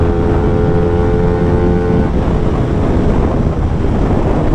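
A Hyosung GT250R 250cc sport motorcycle on the move, the engine a loud, continuous buzzing drone with a harmonic whine that shifts partway through, heavy wind rush over the microphone, and no one speaking.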